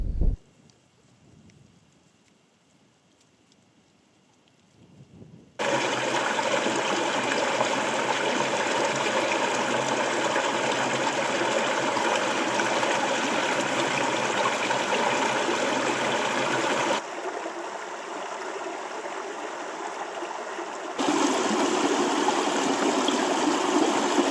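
The Owen River in Donegal rushes steadily over its bed in a loud, close, continuous wash that starts after a few quiet seconds and shifts slightly in tone partway through.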